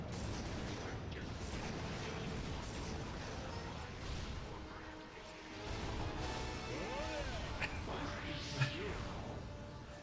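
Missiles firing in the video game Ratchet & Clank: A Crack in Time, a dense, faint barrage of whooshes, blasts and mechanical clatter with a sharp thump near the end.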